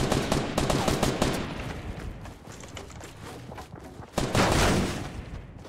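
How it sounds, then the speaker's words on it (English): Gunfire in the video game Fortnite rattles out as dense bursts of rapid shots. A loud volley opens and the shooting continues more quietly, then flares up loudly again near the end. No speech. "just people shooting at me."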